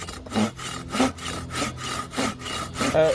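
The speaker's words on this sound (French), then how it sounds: "donc je vais avec l'essai de la scie Schmidt" A Schmidt hand saw with a curved blade cuts through wood in steady, rhythmic strokes, about six rasping pushes and pulls, close and fairly loud.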